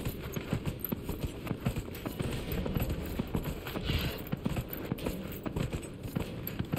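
Horse hooves gallop in Dragon Age Inquisition, a fast, steady clip-clop rhythm running throughout over a dense wash of outdoor ambience, close and moderately loud, with no voice over it.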